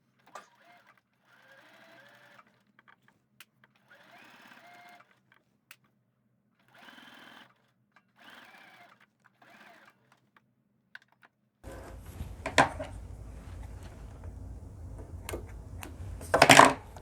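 A sewing machine stitches a side seam on a faux fur vest. It runs in short bursts with pauses between them, then in a longer, louder stretch near the end, heard close up.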